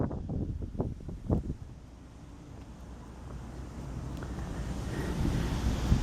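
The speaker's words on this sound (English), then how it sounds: "you can definitely enjoy the nice breeze here along the" A breeze blows along a river in Midland, Michigan, making a low, steady rumble of wind against the microphone. A few soft thumps come early on, then a constant hush that swells slightly toward the end, with no talking.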